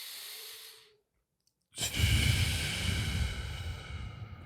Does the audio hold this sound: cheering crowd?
no